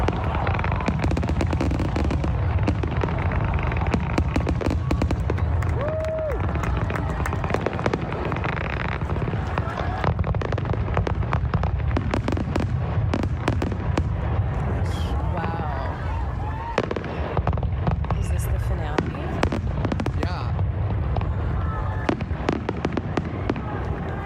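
Fourth of July fireworks over water burst in a loud, dense, continuous barrage of booms and crackles that hardly lets up, with voices faintly underneath.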